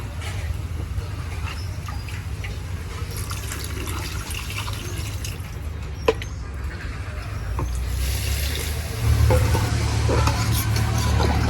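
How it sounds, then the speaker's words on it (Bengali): Water is poured into a pan of cooking sajpithe: a steady bubbling sizzle with a small clink, building to a fuller gushing splash toward the end. "এবার দিয়ে দেব পরিমাণ মতো জল"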